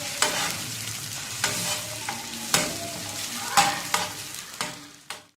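A thick egg omelette fries in a pan, a steady sizzle broken by about five sharp scraping strokes of a spatula spaced roughly a second apart, near and fairly loud, with no voices.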